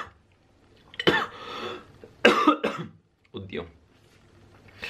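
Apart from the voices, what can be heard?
coughing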